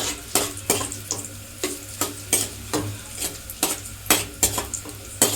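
Cashews and raisins fry in a pan over low gas, with a soft steady sizzle broken by sharp, regular scrapes and clinks of a spoon stirring against the metal, close and loud.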